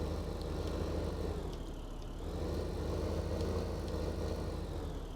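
A JCB tractor engine idles in Farming Simulator 15, a low steady rumble with a droning hum that continues quietly and evenly, with no voices over it.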